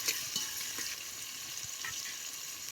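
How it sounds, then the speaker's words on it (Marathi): Onion fries in hot oil for a village-style soy paneer pulao, a steady bright sizzle with occasional stirring knocks, close and fairly quiet, no talking. "कांदा बी तेला चांगला भाजून घेतो"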